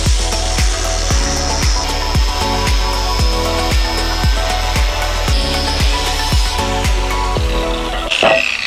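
A metal engine stand bracket for a VR5 engine is being cut down with a power saw, producing loud, steady rhythmic cutting strokes close by that end with a scraping rasp.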